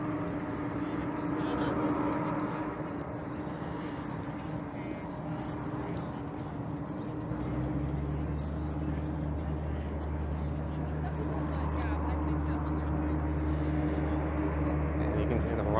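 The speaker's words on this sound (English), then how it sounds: "you can hear the rumblings of some airplanes over at the airport" Airplanes at an airport near the downtown Toronto waterfront give off a low, continuous rumbling drone. It sits steadily under the outdoor ambience and grows deeper and stronger partway through.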